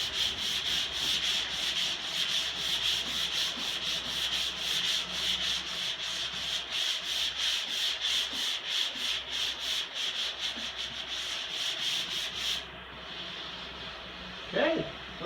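A sanding block rubbing over stained plywood flooring in quick back-and-forth strokes, a steady rhythmic scratchy rasp that stops abruptly near the end, followed by a brief faint sound.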